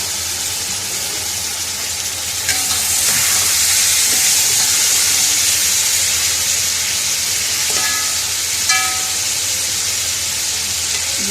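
Bone-in beef sears in a pot for yakhni pulao, a loud, continuous close sizzle and hiss with a few faint clinks, no talking.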